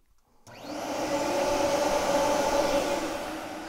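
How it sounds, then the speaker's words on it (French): An AspirTech 1500 SE vacuum cleaner, not yet connected to its hose, starts up and runs with a steady, moderate whirring hum heard from close by, with no talking. "je suis près de l'aspirateur et le bruit va être somme toute très raisonnable"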